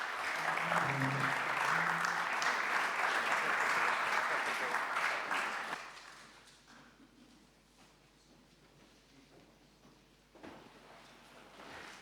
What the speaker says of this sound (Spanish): vamos a despedir al presidente con un aplauso